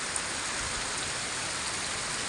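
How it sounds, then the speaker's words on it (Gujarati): Rain falls on open farm fields near Bhavabhi Khijadiya village, a dense, steady hiss of drops with no letup over the short stretch. "વાવણી જેવો વરસાદ થઈ ગયા"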